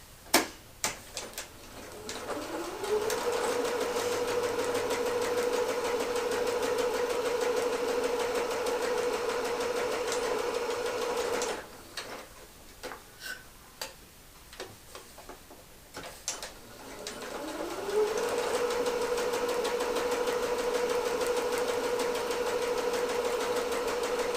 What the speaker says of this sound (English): Go ahead and stitch using a 3/8 inch seam allowance down both sides